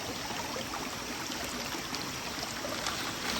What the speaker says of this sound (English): The creek really widens up.